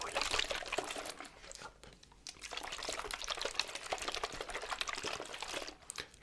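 A handheld water spray bottle sprays in quick, crisp, hissing bursts, repeated in a fast irregular train that is close and intimate, with no voice.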